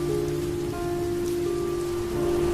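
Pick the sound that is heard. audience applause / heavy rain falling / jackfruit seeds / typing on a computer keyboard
heavy rain falling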